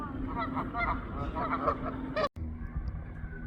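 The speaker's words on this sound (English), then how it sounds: "They're making quite a bit of noise today. These are called Canadian geese" A flock of Canada geese honks continuously in the distance over outdoor background noise on a hiking trail, with a brief cut partway through.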